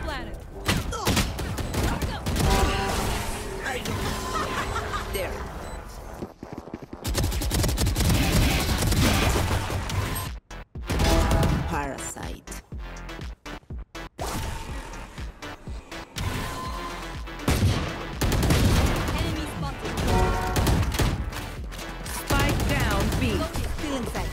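Gunfire in the tactical shooter Valorant: dense, continuous bursts of rapid automatic shots and fusillades fill most of the stretch, broken by a few short gaps, with players talking over the action.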